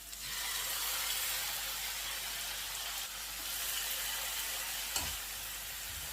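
Fish broth poured into a pan of sautéed onion and pepper sets off a loud, steady hiss and sizzle close by, with a brief clink or scrape near the end.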